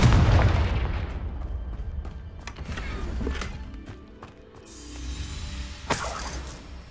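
Confringo fire spell blast in Hogwarts Legacy, a loud booming burst at the start that rumbles off, followed by further sharp crackling impacts and game effects.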